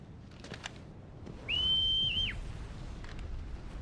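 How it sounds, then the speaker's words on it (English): A single sharp, sustained whistle calls the dog companion in the video game Final Fantasy XVI. It is clear and fairly loud over faint ambient background, and no one speaks. "The whistle to call Torgal felt a little unnecessary, but alright."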